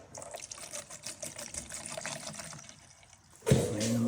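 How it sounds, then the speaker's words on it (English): Rust converter liquid pours into a container until it covers the parts inside, a thin steady trickle that fades, then a louder splashing burst near the end, with no voices. "I'll pour in the rust converter remover and see how it goes"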